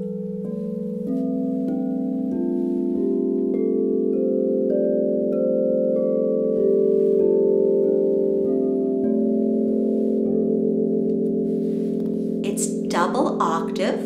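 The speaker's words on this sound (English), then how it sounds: "Tonight I am helping Melissa pick out some crystal singing bowls" A set of white crystal singing bowls plays an F pentatonic scale. Each new bowl enters with a pure ringing tone and rings on over the earlier ones, building a sustained, shimmering layered drone. A few light clinks come near the end.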